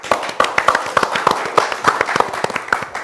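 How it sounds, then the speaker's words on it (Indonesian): A small audience claps at a public speaking session, a scattered burst of individual hand claps close by, uneven and crisp, with no talk over it. "Tepuk tangan dulu dong."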